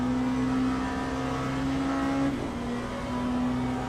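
Race cars in the Le Mans Ultimate sim racing game at Spa, with LMP2 prototypes passing on the straight: a steady loud engine drone with a shifting pitch and a brief swoop as a car goes by, then the engine note continues.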